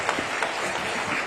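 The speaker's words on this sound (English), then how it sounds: "Give him a big hand, ladies and gentlemen." An audience at the India Today Delhi Conclave 2026 applauds continuously, with close, dense clapping and a few sharper individual claps standing out over the full length.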